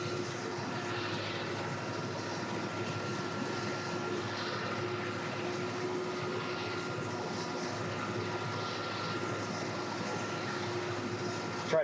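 Steady engine drone of a Ford New Holland 7740 tractor mowing hay over rough, undulating ground, heard from the cab as a continuous, even hum with no break throughout.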